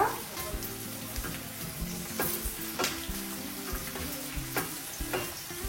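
Chopped onions fry in hot oil for a lentil dal tempering, a continuous sizzle and crackle with occasional sharp pops and stirring clinks, close and fairly quiet, with no voices.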